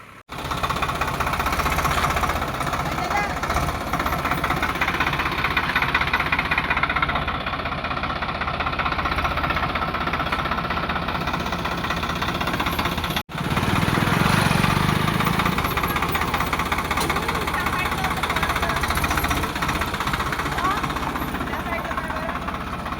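A tractor engine chugs steadily and loudly close by for the whole stretch, a rough knocking drone with a brief dip midway, while a voice talks over it.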